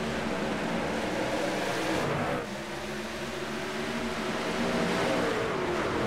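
Race trucks of the HTL Hammer Down Truck Series accelerating on a green-flag restart at the Miami 125, a steady loud roar of engines throughout with a brief dip midway as the pack pulls away.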